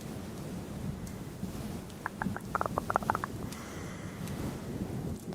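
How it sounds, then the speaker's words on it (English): A fluffy furry microphone windscreen is rubbed and scratched in close-up, giving a soft rustling, wind-like wash with a short burst of brisk scratchy strokes in the middle. "nice fluffy mic sounds."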